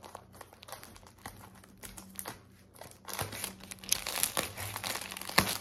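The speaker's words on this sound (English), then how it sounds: "I think I'll put it in the flat rate padded envelope." An item is slid into a flat rate padded envelope, with soft crinkling and rustling of the padded mailer, quiet at first and then louder and busier toward the end, close by with no talk.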